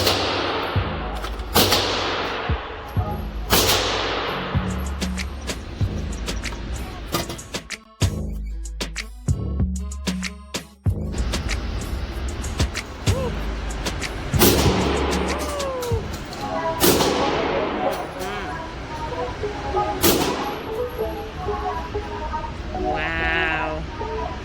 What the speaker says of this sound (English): Here's a 12 gauge shotgun, semi-automatic.